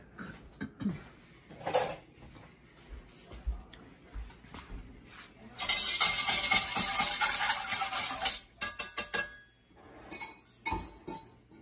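Metal whisk rattling briskly against a bowl as water and salt are mixed for French bread dough, a dense burst of clinking and scraping after a few scattered knocks, then sharp taps on the rim.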